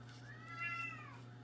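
An upset female cat with an amputated leg lets out one long, loud, rising-and-falling yowl that peaks mid-clip over a steady low hum, with no one talking.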